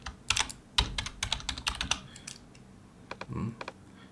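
Typing on a computer keyboard: a burst of quick, crisp key clicks in an uneven rhythm, a pause, then a few more taps, close and fairly quiet, with no talk.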